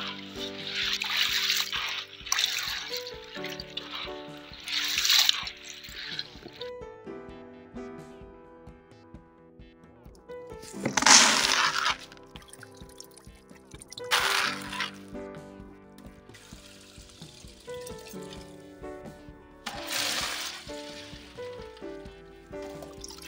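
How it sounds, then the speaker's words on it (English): Shelled corn being rinsed in water in a Ghanaian village while making corn dough for banku: intermittent splashing and sloshing bursts with trickling in between, close by, with no talk. "So at this point, we are just rinsing the corn like so."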